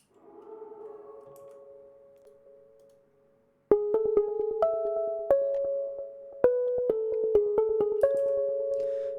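A melody played on the Longing for Home synth preset in Omnisphere: a soft sustained tone first, then after a short gap a string of plucked, bell-like notes in a steady rhythm, clean and up close with no talking.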